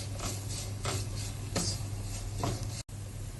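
Kerala-style crab roast masala sautéed in a pan, with rhythmic scraping strokes of a spoon and a soft sizzle underneath, fairly quiet and close.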